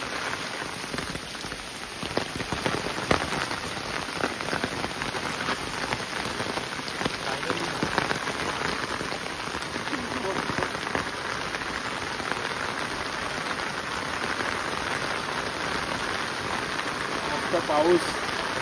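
Rain falls steadily and densely in a Konkan village, a constant close hiss of drops on surfaces that continues unchanged for the whole stretch.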